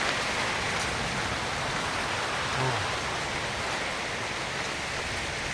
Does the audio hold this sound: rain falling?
yes